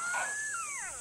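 African wild dogs of a pack calling at night: a single thin, wavering high-pitched call that glides up then slides downward into overlapping descending cries, heard at a distance over steady high insect hiss.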